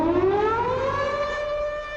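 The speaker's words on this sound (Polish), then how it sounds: "Dźwięk obozowej syreny oznajmił, że z obozu zbiegł jeden z więźniów" A camp siren wails to signal a prisoner's escape, its rising harmonic tone sliding slowly upward and holding steady, loud and continuous with no voices.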